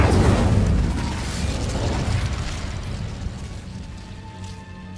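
A fire spell cast in the Hogwarts Legacy video game erupts in a loud, roaring burst that rumbles and slowly fades over several seconds, with no talk over it.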